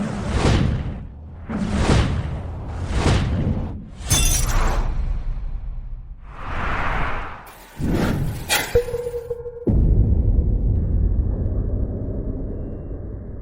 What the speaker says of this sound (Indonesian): setelah vas pecah